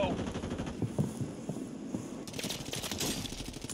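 Rapid bursts of automatic gunfire crackle through a Call of Duty Resurgence match, a steady stream of shots over a low game hum that grows denser and louder toward the end.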